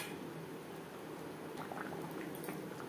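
Paneer simmers in gravy with a faint, continuous bubbling and soft wet popping that stays steady throughout, with no speech.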